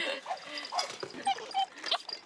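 A puppy at a mountain village chicken farm barks in several short, close yaps spaced through the moment, with people talking around it.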